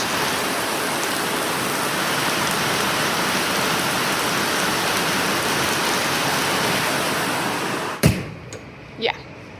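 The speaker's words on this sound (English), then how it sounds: "Listen to this rain." Heavy rain pours steadily outside, a dense continuous hiss that fills the scene, then a sudden thump cuts it off and a couple of soft knocks follow.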